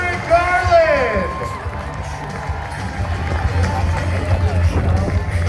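Crowd at a motocross freestyle show at the California State Fair, Cal Expo, cheering and whooping loudly for several seconds, with a sustained roar of voices and a rising whistle-like shout near the start.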